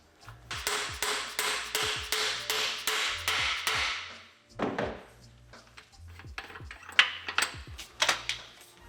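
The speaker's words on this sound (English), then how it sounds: "This is a little star nut setting tool." A star nut is hammered into a mountain bike fork steer tube with a setting tool, a close run of about a dozen steady metallic hammer blows, then a pause and scattered lighter knocks and taps.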